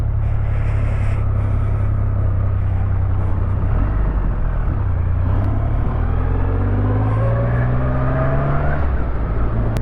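A 2024 Triumph Rocket 3 GT motorcycle engine pulls through the gears while riding, loud and close, with rising revs, brief dips at shifts and a deep rumbling drone under wind noise.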